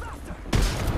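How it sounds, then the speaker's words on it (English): A grenade in the video game Apex Legends detonates with a sudden loud boom midway, following quieter game ambience. "That's a grenade!"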